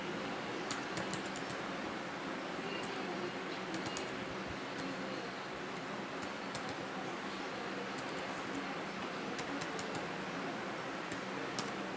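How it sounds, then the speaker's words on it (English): Typing on a universal leather book-cover keyboard case for a Samsung Galaxy Tab E gives soft, irregular key clicks, close and faint, tapping steadily throughout. "let's try to type something here"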